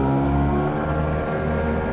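An engine running on fuel with a high concentration of Sea Foam cleaner holds a steady, low, droning hum, close and continuous, with no talk over it.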